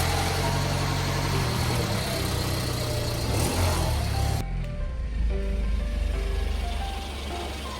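An eight-year-old Mercedes-Benz with 80,000 km is driven to bed in new brake discs and pads. A continuous engine and road drone runs throughout, with the tone shifting abruptly partway through and then carrying on steadily.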